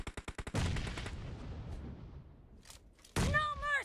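Rapid automatic Groza rifle fire in the mobile shooter PUBG: a quick burst of about five loud shots, then a trailing echo and a second loud burst of in-game sound at the end.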